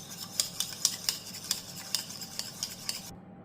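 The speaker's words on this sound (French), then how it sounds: "Je vais remuer." A spoon stirring sweetened chocolate powder, small bright metallic clinks against a bowl or cup tapping in a quick even rhythm, close and quiet, then abruptly stopping.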